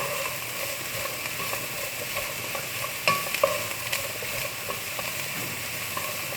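Vegetables including carrot frying in a small amount of olive oil, a steady dense sizzle with occasional light scrapes and taps of a utensil in the pan, close and even with no talk.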